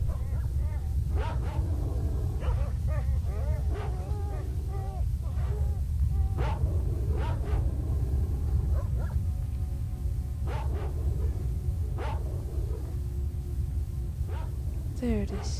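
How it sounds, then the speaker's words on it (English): Many dogs barking and yipping in the game S.T.A.L.K.E.R.: Shadow of Chernobyl, scattered barks at varying distances over a constant low ambient rumble. "I can hear so many dogs."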